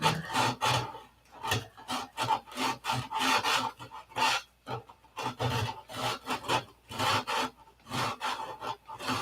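Repeated rhythmic rubbing strokes of hand sanding on a surface being prepared for paint, close and steady, each pass a short rasping scrape with brief pauses between, no voices.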